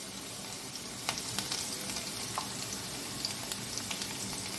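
Spices with turmeric, cumin and chili powder sizzle steadily in hot oil while being sautéed for a moong dal with taro root, a soft continuous crackle with a few sharper pops, close and unaccompanied by talk.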